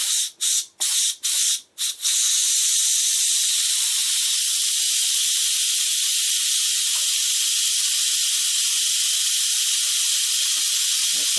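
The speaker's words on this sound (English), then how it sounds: "That's hot steam, so you don't want to put your hands in front of it, or especially your face. Let it continue venting there." An Instant Pot Duo Mini vents hot steam through its release valve, a loud, steady, close hiss that runs on without pause after a few brief clicks and handling sounds at the start.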